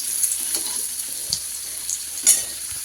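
Chicken fries in oil in a pan over low heat, giving a steady soft sizzle with occasional louder pops and crackles, close by and with no talking.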